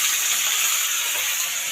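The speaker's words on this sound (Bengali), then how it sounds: "মা এদিকে এই যে গিমে শাকটা ভাজা করছে, আলু দিয়ে ভাজা হচ্ছে।" Gime greens frying with potatoes and onions in a pan, giving a steady, even sizzling hiss that holds at one level throughout, close by with no voices.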